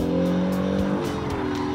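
A 2019 Honda NSX slides through a corner in a four-wheel drift at Suzuka circuit. The tires squeal over a steady engine drone, close and loud throughout.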